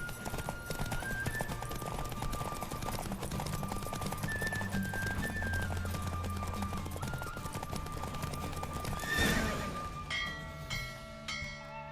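Rhythmic hoofbeats of a galloping horse in the video game The Witcher 3: Wild Hunt drive along under a busy, layered soundtrack with a swelling musical flourish near the end.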